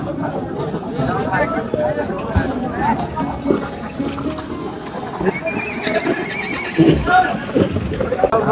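Horses neigh and whinny nearby at a large horse market in Tulshipur, amid outdoor chatter and hoof clops, with a louder whinny standing out near the end.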